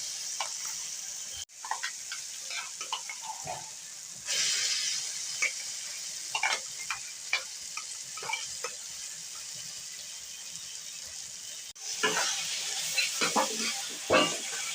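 Ground taro flower paste with prawns frying in a pan, giving a soft sizzle broken by intermittent scraping and stirring clicks of a spoon, close by with no voices.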